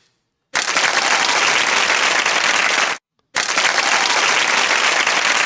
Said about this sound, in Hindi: सारे बच्चों के लिए ढेर सारी तालियां.